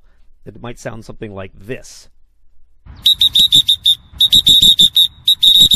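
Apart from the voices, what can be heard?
roller derby referee whistles blown out of sync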